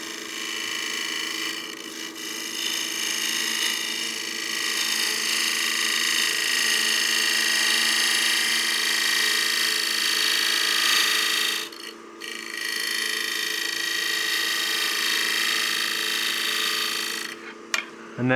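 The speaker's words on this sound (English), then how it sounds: "So I'm gonna do a push cut from this direction." Wood lathe push cut shaping a succulent planter: a steady, close scraping hiss of the tool on spinning wood, continuing with brief dips near the end.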